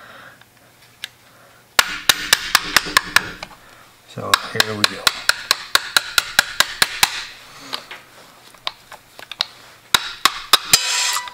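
A hammer drives a punch to knock a stuck bushing out of a Colt Burgess gun, producing a long run of sharp metallic strikes, some rapid and some spaced, with someone talking between the blows.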